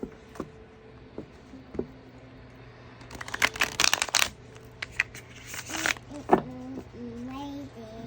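Tarot and oracle cards being shuffled by hand at close range, with bursts of crisp riffling and sliding card noise in the middle of the clip, separated by soft taps and quieter handling, and a faint voice near the end.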